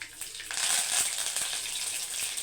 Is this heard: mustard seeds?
yes